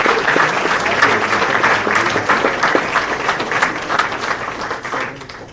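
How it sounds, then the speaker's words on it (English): An audience at a Hall of Fame induction ceremony applauds in a full, even round that holds steady for several seconds before easing off slightly at the end. "Let's give them a round of applause"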